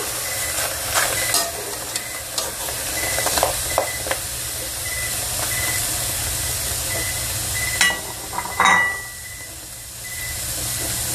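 A steady hiss and sizzle of catfish cooking in vinegar in a pot, with occasional louder bursts of steam and faint clinks, no talking.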